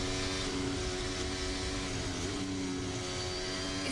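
Max Verstappen's Red Bull Formula 1 car at the 2023 Saudi Arabian Grand Prix, heard from onboard, gives a continuous loud, buzzing engine drone with a steady pitch and no talk over it.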